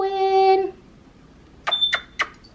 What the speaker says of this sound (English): the beeping you might hear is the smoke detector here